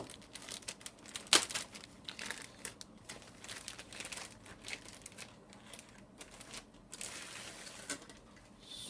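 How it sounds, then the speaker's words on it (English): Plastic bag from a model kit being pulled open by hand, close crinkling and rustling with one sharp tearing snap near the start, then softer continued crumpling, no talking. "let's try and get this bag open without cutting myself open again."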